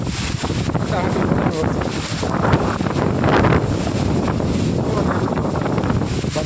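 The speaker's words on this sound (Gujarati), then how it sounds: "વરસાદ બહુ છે ફૂલો ફૂલ પવન છે" Strong wind buffeting the microphone with a dense roar of heavy rain, loud and continuous with surging gusts.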